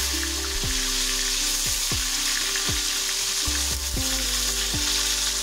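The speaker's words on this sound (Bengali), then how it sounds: "এখন আমরা এই গরম তেলের উপরে লবণ হলুদ মেখে রাখা প্রথমে আলুগুলো ভাজা করে" Potatoes coated with salt and turmeric fry in hot oil in a pan, a loud continuous sizzle broken by repeated scraping stirs of a ladle, with no voices.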